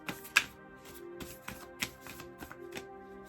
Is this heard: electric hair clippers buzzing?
no